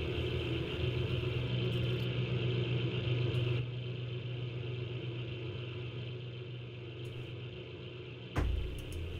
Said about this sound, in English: this car's really loud